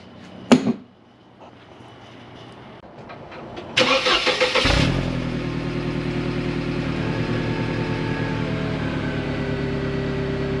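An SLK car engine cranks and catches, then settles into a steady idle that runs on, with a brief sharp noise just before it starts, on a very windy day.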